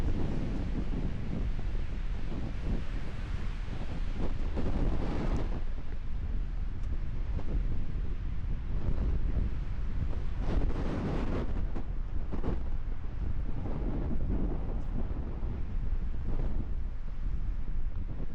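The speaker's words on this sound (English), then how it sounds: "I don't think we have tree toppling wind today, but it is definitely consistent and kind of cold." Steady cold wind buffets the microphone on a rocky coastline, a continuous loud roar with gusty swells and possible surf underneath, no voices.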